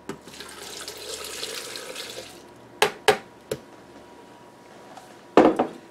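Liquid pours steadily into a Philips soup maker for about two seconds, then a few sharp clinks and clatters follow, with a louder knock near the end.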